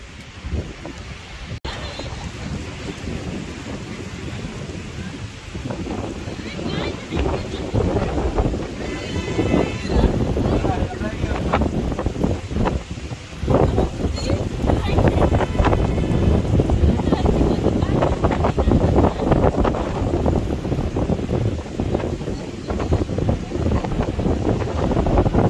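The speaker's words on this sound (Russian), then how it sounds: "Ой, как ветер дует." Steady coastal wind at a beach at Botany Bay, Australia roars and buffets the microphone throughout, a loud, continuous low rumble with no voices.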